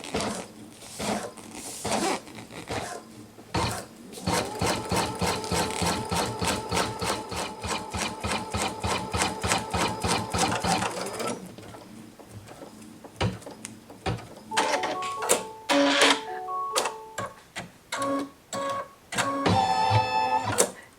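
An embroidery sewing machine runs a basting stitch around a design on flat stabilizer, giving a fast rhythmic mechanical chatter for about ten seconds, then intermittent clicks and stepping motor whirs with short pauses.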